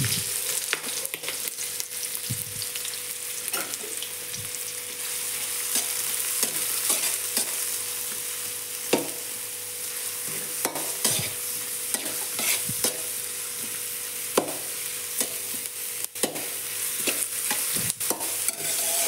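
Onions fry in a pan, a strong continuous sizzle held for a long stretch while a spoon stirs and scrapes with occasional sharp clinks, heard close with no talking.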